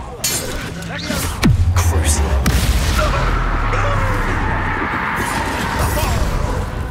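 A Bombarda spell explodes in Hogwarts Legacy, a loud booming blast with shattering debris followed by a sustained rumbling wash of effects, with a voice speaking briefly.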